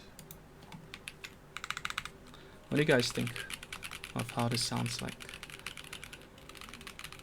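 Keystrokes clatter on a KBDFans D45 mechanical keyboard: a quick burst of crisp clicks, then a voice talks over a few stray taps, with scattered clicks trailing off at the end.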